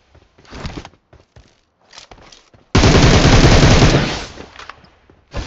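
Automatic gunfire in the BGMI battle royale game: a loud, sustained burst lasting about a second and a half, preceded by scattered faint clicks and rustles.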